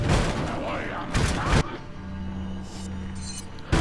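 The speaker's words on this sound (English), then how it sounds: "God, hand grenade!" A hand grenade blast in Resident Evil 4 bursts out loud and close, a heavy booming thud with a second thump shortly after, while a voice talks over the action and a low hum runs beneath.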